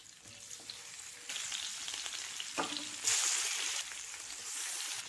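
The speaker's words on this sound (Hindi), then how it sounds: "तेल गरम हो चुका है, गोश्त के पीसेस रख दें।" Mutton pieces fry in hot oil, a quiet hissing sizzle that swells in waves, loudest briefly in the middle, with faint clinks and no talking.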